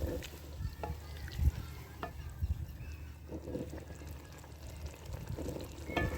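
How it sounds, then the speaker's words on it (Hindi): Spiced potatoes being fried and stirred in a pan before aubergine goes in, a quiet sizzle under intermittent spatula scrapes and knocks, heard close with no talk. "और अच्छी तरह इसको भूनना है।"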